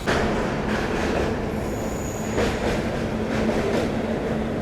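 A passenger train from Puri to Kolkata rumbles across the Mahanadi river bridge, a loud continuous roar of wheels and carriages with a faint high squeal drifting over it.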